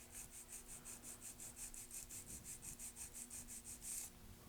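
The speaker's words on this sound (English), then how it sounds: "my first step in filing is straight out from the nail groove on the left." A nail being filed straight out from the nail groove while shaping a long coffin-shaped nail, with a faint, steady rasping rub in quick, even back-and-forth strokes.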